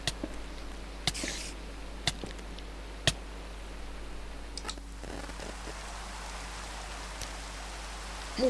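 Rain in a zombie apocalypse video game, a soft steady patter with scattered sharp ticks and clicks over a low constant hum, fairly quiet with no voices.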